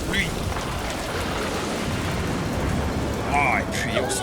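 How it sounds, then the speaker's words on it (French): A sudden rain shower pours down as a steady, dense hiss filling the whole stretch, with brief tonal squeaks and faint voices surfacing near the end. "D'où vient cette pluie?"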